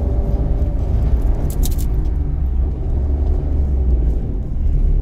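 A car's engine hums low and steady while a learner eases off the brake, lets the clutch up slowly and gives gentle throttle; the rumble rises slightly, with no talking.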